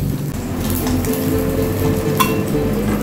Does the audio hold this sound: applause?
no